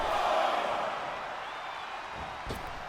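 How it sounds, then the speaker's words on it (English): Arena crowd cheering in the wrestling video game WWE 2K24, a steady broad roar of a large audience that swells at the start and then holds, with a brief sharp impact near the end. "Mariah escaping as the crowd cheers for Toni Storm"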